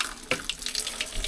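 Water runs from a pipe onto concrete, splashing onto a trowel laid there, a close steady gushing spatter with small bright splashes and no talk.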